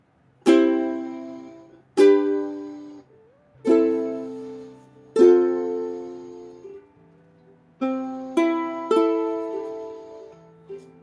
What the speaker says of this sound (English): a bit of a harmony going on with the ukulele sound when I turn it to chorus